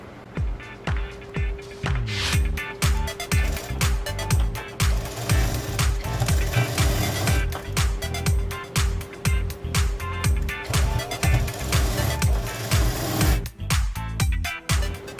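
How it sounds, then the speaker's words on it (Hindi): A sewing machine stitches the shoulder seam of a short cotton kurti in a loud, fast, steady mechanical chatter, running continuously for most of the stretch with a brief start-up and a short pause near the end. "और अब आप इसमें मार्जिन की सिलाई लगाएंगे, जितना आपने मार्जिन छोड़ा है उसी के अकॉर्डिंग आप सिलाई लगाएंगे।"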